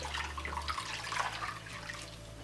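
Warm water runs from a tap for wetting a washcloth, a soft steady splashing stream heard close and alone with no talk.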